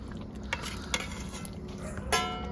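Paneer being added and stirred into palak curry in a pan, with a soft continuous sizzle and a few sharp scrapes of a utensil against the pan.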